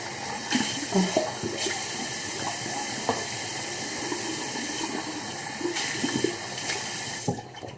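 Hot water runs steadily from a tap with a constant hissing rush, broken by occasional clinks and splashes as mastectomy drains are rinsed under the stream.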